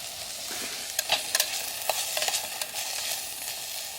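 Onions softening in a pot over a camp stove while cooking chicken chili outdoors, giving a steady close sizzle with scattered sharp clicks and scrapes of stirring, no talk.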